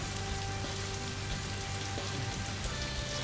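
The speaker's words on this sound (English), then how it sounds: "Apparently I'm supposed to make it rain." Steady rain in the Scribblenauts Unlimited video game, a dense continuous hiss of falling drops on a surface, loud and even throughout with no voices.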